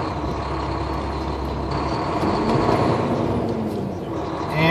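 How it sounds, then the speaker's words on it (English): Trucks entering the Oklahoma Turnpike, with a steady diesel engine rumble and road roar close by that swells slightly toward the end, broken by a faint hiss. "And as you can see, all kinds of different trucks getting on there."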